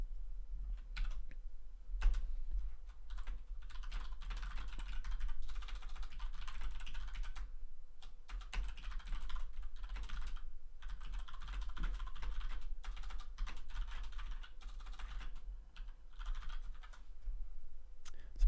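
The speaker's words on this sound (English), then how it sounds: "Sometimes I'm so bad at typing." Computer keyboard typing, steady and close, with brisk irregular runs of key clicks and short pauses over a low constant background hum, no voices.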